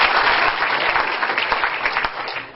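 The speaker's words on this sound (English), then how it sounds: "Warm round of applause." A conference audience applauds as a speaker is welcomed to the stage, a dense, loud wash of clapping that holds steady and tapers slightly at the close.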